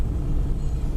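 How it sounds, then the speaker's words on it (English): Steady low engine drone and resonant hum inside a 1984 Pontiac 6000 driving at night with replaced motor mounts, a continuous, close rumble with no speech. "this car's got some sympathetic resonance in it from the engine,"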